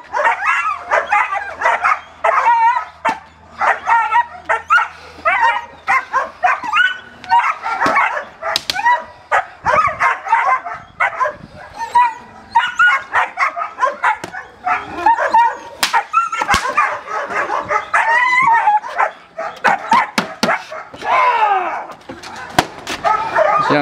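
A young dog barks and yips agitatedly in rapid, uneven bursts inside a car, with whimpers mixed in, continuing close and loud throughout.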